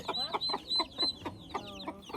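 A chicken clucks in short, evenly spaced bursts close by, with a few higher chirps mixed in as other birds call faintly behind.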